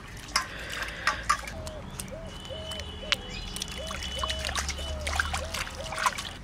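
Water splashes and trickles as scaled hilsa fish is rinsed clean in a kitchen, with steady light sloshing and dribbling, scattered clinks and faint tapping, close and moderately quiet, no speech.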